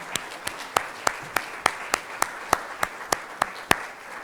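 Sparse, evenly spaced claps from a congregation during a Rosh Hashanah service honoring prayer chaplains, a thin scattered round of applause, fairly quiet and distant, with no voices over it.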